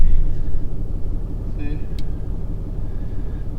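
A pickup truck drives off-road, its engine giving a loud, close, continuous low rumble with steady road noise and a brief clink partway through, while a person talks over it.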